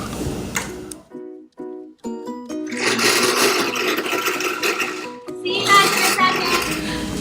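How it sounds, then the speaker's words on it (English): A countertop blender whirring through a frappe drink mix, starting after a few clinks and then running loudly and steadily with a dense grinding roar for several seconds. "I'm gonna start the blending and then we'll pause and we'll come right back"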